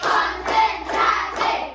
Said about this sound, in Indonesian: kita tepuk konsentrasi dengan tepukan 1, 1, 2, 3